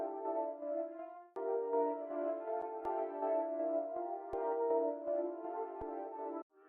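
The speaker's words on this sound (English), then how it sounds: "And so the rendered out version sounds something like this." An ambient synth melody drenched in lush Valhalla Supermassive reverb with chorus plays as sustained, shimmering chords with a brief dip partway through, alone and steady at moderate level.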